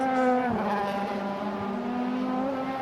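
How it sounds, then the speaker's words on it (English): Red Bull Audi A4 DTM race car with a V8 engine at the Norisring street circuit in 2010, its high harmonic engine note holding steady and loud as it passes close by, with a short dip near the start. "V8 engines chiming away."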